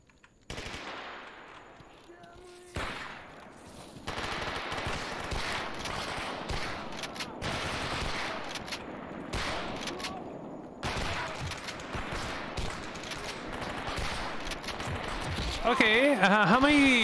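Automatic and single gunfire in the game STALKER during a firefight with military troops, loud and dense bursts running almost continuously, with a brief tonal electronic sound near the end.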